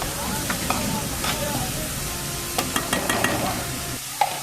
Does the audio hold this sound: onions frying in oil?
yes